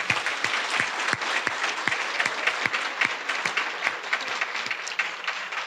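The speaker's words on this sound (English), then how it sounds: "Give yourselves a round of applause" Applause from an audience of volunteers at an awards ceremony in Memphis, a steady wash of many hands clapping with sharper individual claps standing out, sustained and fairly close throughout.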